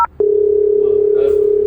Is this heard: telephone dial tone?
yes